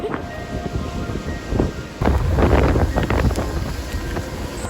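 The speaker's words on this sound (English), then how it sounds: "You may be able to hear the thunder is still going." Thunder rolls during a lightning storm, heard while riding a motorbike outdoors. It is a low, rumbling swell partly buried under steady wind buffeting the microphone, and it grows louder about halfway through.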